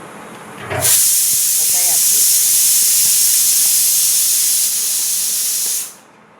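Hot tempering poured into water for gathiya shak sets off a sudden loud steam hiss that holds strong for about five seconds, then quickly dies away.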